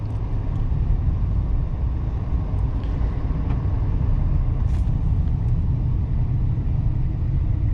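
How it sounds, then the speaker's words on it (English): Steady, loud low-frequency diesel drone inside the cabin of a 2024 GMC Sierra 2500HD Denali Ultimate pickup with a Duramax diesel under the hood, a continuous engine and road rumble while driving, with no talking. "It is kind of loud inside of here, but that's to be expected when you have a Duramax under the hood."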